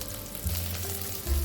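Sliced onions and slit, mild, large green chillies sizzle and fry in a pan, a close, continuous hiss with a low bubbling undertone and no talk.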